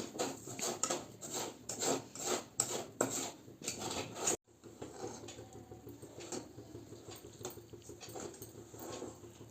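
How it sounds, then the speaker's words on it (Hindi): Sugar melting with refined oil and ghee in a pan over medium-low heat for almond chikki, stirred steadily, giving a repeated rasping scrape that is busier for the first few seconds, then a softer continuous scratching without talk. "हमें इसी तरह चलाते जाना है ताकि अच्छी तरह से पूरी चीनी पिघल जाए"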